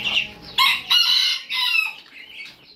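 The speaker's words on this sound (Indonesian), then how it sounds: "kita kasih ke kandang entok yang agak besar ya" Muscovy ducks in a larger pen give shrill, raspy calls at close range, several overlapping bursts over a few seconds with short gaps between them.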